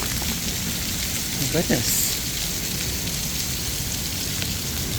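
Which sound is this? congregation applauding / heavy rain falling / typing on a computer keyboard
heavy rain falling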